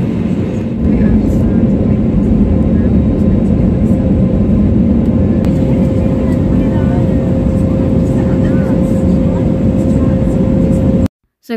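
Steady low-pitched drone of an airplane cabin in flight, loud and continuous, with a constant engine hum throughout that cuts off abruptly near the end.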